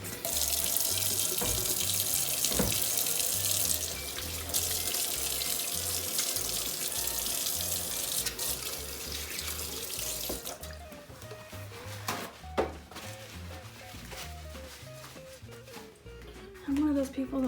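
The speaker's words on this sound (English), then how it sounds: "Let me wash my hands." Hands being washed under a running kitchen sink tap while cooking, a loud steady gush of water that cuts off partway, leaving drips, clinks and handling sounds near the mic.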